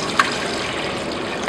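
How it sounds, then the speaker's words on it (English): Water pours steadily into a cooking pot, a continuous close splashing flow with a couple of brief clinks. "And now we'll add water"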